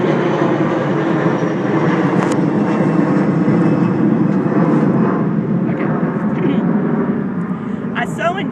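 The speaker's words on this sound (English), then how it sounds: "Got an airplane." An airplane passes overhead as a steady, broad engine rumble that holds throughout, fairly loud and continuous, with someone speaking over it.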